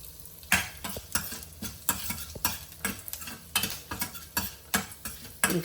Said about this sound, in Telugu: ఒక చిటికెడు ఇంగువ వేస్తున్నాను.